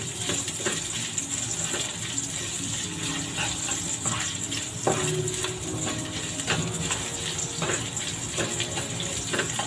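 Ginger fries in a hot pan, giving a steady, dense crackling sizzle with scattered sharp pops throughout, loud and continuous with no talking.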